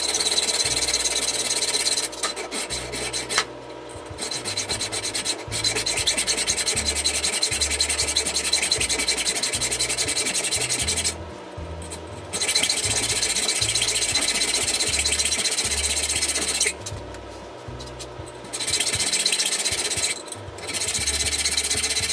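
Metal is cut by hand to a scribed line for a new T-nut for an AXA tool post on a South Bend 9C lathe: steady, close rasping saw strokes in a continuous rhythm, broken by brief pauses, with no talking.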